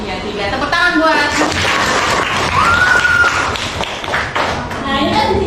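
Children in a classroom break into quick, scattered applause, a dense patter of hand claps with chatter and voices mixed in throughout.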